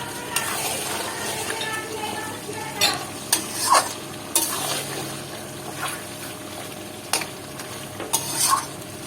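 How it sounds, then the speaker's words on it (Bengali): Mutton for a Bengali-style young goat curry is stir-fried in a pan: a continuous oily sizzle with repeated spatula scrapes and metallic clinks, close and moderately loud. "মাংসটা আমি ভালোভাবে আগে কষিয়ে নিচ্ছি।"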